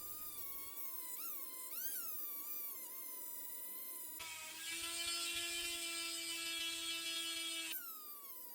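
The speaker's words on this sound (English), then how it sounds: "these Dremel buffing wheels will have to suffice" A Dremel buffing wheel polishes a knife blade made from an old file, its small motor whining in a high tone that shifts with load, then settling into a louder, steady, high-pitched hum before easing off.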